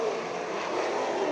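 Sprint cars racing at Eagle Raceway, a loud close engine roar sweeping past in a short continuous burst with rising and falling pitch.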